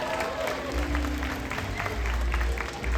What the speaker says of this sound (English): How about a round of applause for Dean,